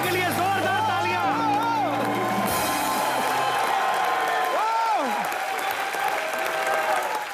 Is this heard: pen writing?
no